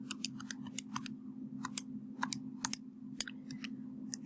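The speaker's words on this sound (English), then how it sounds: "So I can pick up my calculator and type in exactly what I see." Fingers tap out a string of quick, crisp clicks on a calculator keypad, irregular and close, over a low steady hum, with no voices.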